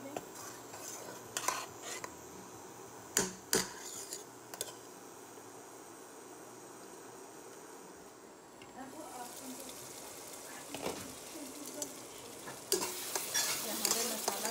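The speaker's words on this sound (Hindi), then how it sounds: "यहाँ पे मसाला पक रहा है" Masala with tomatoes fries in a pan, a soft continuous sizzle broken by sharp clinks of a spoon stirring against the metal, with the hiss swelling louder near the end.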